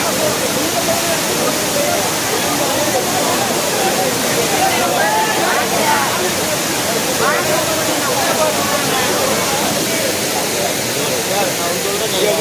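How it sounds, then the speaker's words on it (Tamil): A seasonal waterfall at Kutralam roars in a steady, loud, unbroken rush of crashing water, with people's voices and bathers' chatter faintly mixed beneath the torrent. "ஏன்னா தண்ணி நல்லா விழுது"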